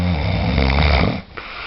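A sleeping man snores loudly and close by in one long rasping breath, which stops abruptly near the end before a faint quieter breath follows.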